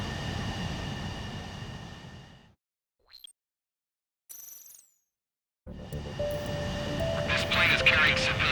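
In the Ace Combat 7 video game, a jet roars steadily, cuts out into near silence with a few short blips, then returns louder and builds toward the end.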